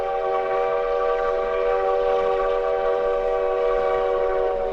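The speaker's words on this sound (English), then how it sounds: "engineer Tom Tomasello races up Robinson Canyon, piloting 70 tons of steel" A 70-ton train climbs Robinson Canyon in Nevada, a loud, steady sustained horn-like tone holding for several seconds over a constant rumbling roar, with no talk.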